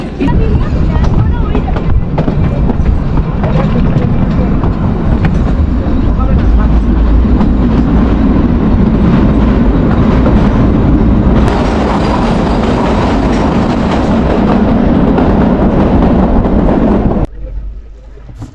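A small toy train on the Kalka–Shimla mountain railway rumbles and clatters loudly along the tracks, steady and close, with voices faintly under the noise before it suddenly drops away.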